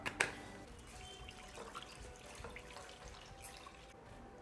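Faint water splashing and trickling in a container, with soft clinks and swishing, as chana dal (split chickpeas) is rinsed by hand.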